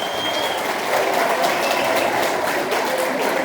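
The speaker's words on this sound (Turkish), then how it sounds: "Hep beraber moral alkışı diyoruz" Wedding guests at a Turkish wedding ceremony break into sustained, dense applause of encouragement, a continuous roar of many hands clapping that fills the room, with a few voices faintly mixed in.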